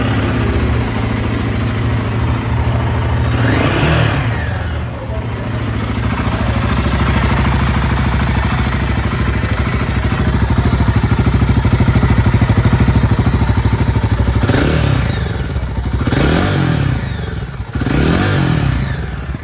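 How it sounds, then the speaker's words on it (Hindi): A Royal Enfield Guerrilla 450 motorcycle idles with a steady low rumble, then its exhaust revs sharply three times toward the end, loud and close. "यहाँ पे आपको एग्जॉस्ट साउंड में सुनाता हूँ,"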